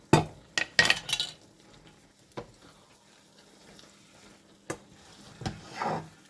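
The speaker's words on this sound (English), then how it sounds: "Okay, they're just starting to sizzle." Bursts of clattering and stirring over a soft, steady sizzle of food frying in a pan, with a few sharp knocks spaced apart and a louder scrape near the end.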